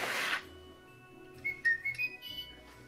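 Plush toy whistling when someone blows on it: a soft rush of breath, then a string of thin, wavering little whistle tones, faint and close, with no talking.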